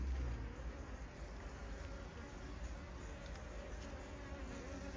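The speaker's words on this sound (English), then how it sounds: "There's a drone bee in there, funny enough" A drone bee in a beehive makes a faint, continuous buzzing hum that holds steady with little change in level.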